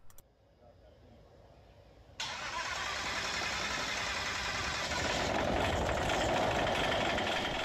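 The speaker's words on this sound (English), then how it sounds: "here's a quick run of the engine with the prop on" A model aircraft engine with its propeller fitted, still untuned and driven through a belt drive, starts after a short quiet lead-in, then runs loud and steady with a harsh buzzing roar that rises slightly near the end.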